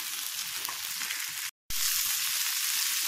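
Capsicum frying in a pan for chutney, a steady bright sizzle that runs throughout, cut by a short silent gap midway before resuming just as loud, no voices.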